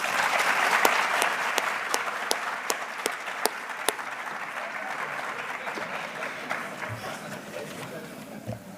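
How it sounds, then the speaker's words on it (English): An audience at a high school senior awards ceremony applauds the senior class officers, loud sustained clapping with a few sharp, regularly spaced claps standing out, fading gradually over about nine seconds. "we'll just go ahead and give them a round of applause"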